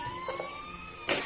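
A toy fire truck siren wails in a steady electronic tone close by, ending with a brief louder clatter.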